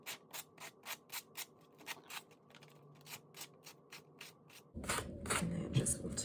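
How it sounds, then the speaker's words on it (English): A sanding block is rubbed along a cardboard edge in quick, regular strokes, each a short, close, dry scrape. The strokes give way to heavier, noisier handling near the end. "I'm just going to take this sanding block and just"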